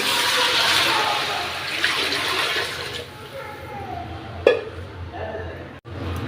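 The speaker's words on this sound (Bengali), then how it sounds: "এখানে আমি পানিটা দিয়ে দিব" Water pours into a cooking pot for chicken biryani, a loud rushing splash that settles into a quieter trickle, followed by a sharp clink.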